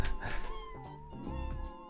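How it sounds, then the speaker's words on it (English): A cat meow sounds within a song, a short tonal mewing cry layered over the music's steady harmonic backing and heard at low volume. "The cat noise in the song spooked my dog so hard."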